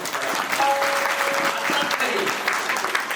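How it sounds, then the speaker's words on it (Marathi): An audience at a kirtan applauding loudly, dense continuous clapping close and full for a few seconds, with a brief tonal voice rising faintly within the crowd noise. "आज आनंदाच्या प्रसंगाबद्दल जोरात टाळ्या वाजवायच्या,"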